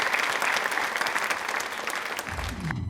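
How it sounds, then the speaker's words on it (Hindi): A studio audience on a Rajasthan television quiz show bursts into steady, enthusiastic applause for a guest, filling the space evenly throughout. "एक बार तालियां जोरदार मैम के लिए हो जाएं"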